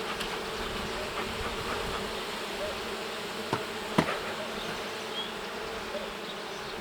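Steady, dense buzzing of many honeybees at a Ukrainian-Alpine hive being smoked, a continuous swarm hum with a couple of brief knocks partway through.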